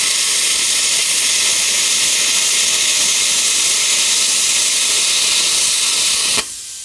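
A Simder CUT 50 plasma cutter on 220 volts slicing 16 gauge sheet metal, a loud, steady, harsh hiss of the arc running close up for over six seconds before cutting off abruptly.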